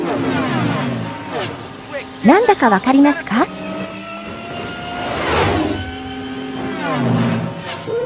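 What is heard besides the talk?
motorbike sound effect sampled from Lockheed P-38 Lightning propeller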